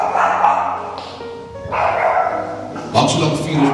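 A dog barks and yips in short bursts, fairly close, mixed in with people talking over it.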